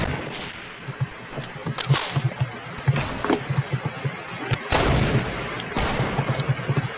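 Gunfire in the Fortnite video game, several sharp shots spread irregularly through the stretch, some louder bursts standing out over a steady background of game ambience.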